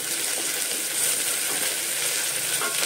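Onions sizzle steadily in a hot pan with ginger garlic paste, a constant bright hiss of frying with faint stirring scrapes and no talking.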